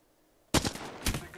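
Two sharp gunshots ring out close and loud in Apex Legends, a single crack followed about half a second later by another, with a short ringing tail after each.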